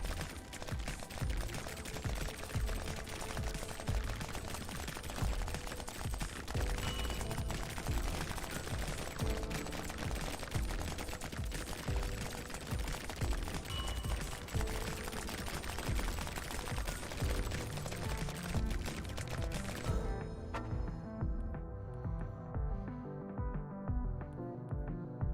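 Mortar weapon firing in a bullet heaven video game, a relentless barrage of dense, overlapping explosive thumps and crackling blasts layered over game music, loud and continuous before cutting out abruptly near the end.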